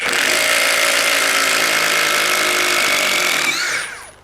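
A Worcraft CIS-S20LiBH cordless impact driver rated at 230 Nm runs at full speed, a loud, continuous high-pitched motor whine with rapid hammering that holds steady for a few seconds, then winds down and stops.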